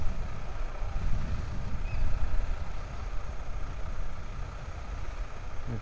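A BMW R1250R SE 2022 motorcycle rides quietly through town, its engine a soft, steady low hum mixed with light traffic and road noise.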